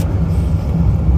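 Low engine rumble of a car being driven on the road with four people aboard for night fishing in North Wales, a steady close drone filling the whole stretch with no talking.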